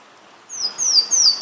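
A Louisiana waterthrush sings: high, thin song rising after a quiet start, a few bright slurred phrases repeating over faint background hiss, fairly close.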